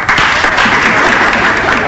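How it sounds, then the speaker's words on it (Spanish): Studio audience applause on a Spanish-language comedy radio show, a dense steady burst of clapping heard close and loud, alone without talk. "Vamos a despedirlo con un cariñoso aplauso."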